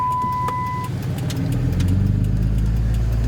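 A truck engine pulls along a road, its drone steady at first and then deepening and growing louder as it shifts into second gear, with a brief tonal beep early on and no speech.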